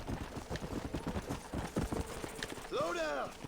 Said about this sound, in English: I guess we must become one with our horse.